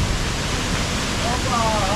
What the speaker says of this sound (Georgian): ეს ჩანჩქერი იყო